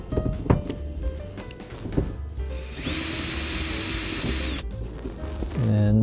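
A socket wrench on an extension works loose the mirror nuts inside a 2021 Toyota RAV4 Prime SE door, giving scattered close clicks and knocks with a brief whirring hum midway.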